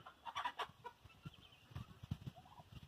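Several laying hens cluck in short, irregular bursts, fairly close by, with some quieter pauses between the calls.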